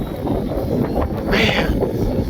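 Steady crosswind buffets the microphone at an RC flying field during a jet landing, a continuous low rumbling roar with a brief gusty swell near the middle.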